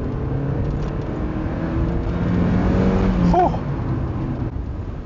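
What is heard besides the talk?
sports car engine revving in second gear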